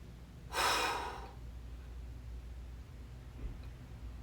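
A single heavy exhalation during a stick mobility pelvic tilt exercise in a workout class, loud and breathy for about a second, then a quiet room hum.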